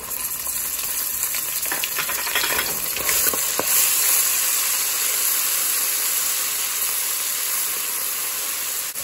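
Two tablespoons of crushed garlic and ginger fry with browned onions in a loud, continuous sizzle and hiss, with a few brief stirring scrapes early on and no talking.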